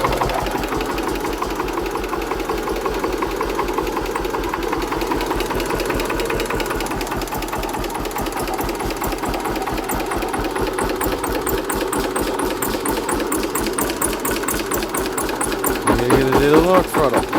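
Stationary Hatz diesel engine converted to run on wood gas from a homemade gasifier, chugging steadily with a fast even knock, close and loud for the whole stretch, speeding up slightly toward the end.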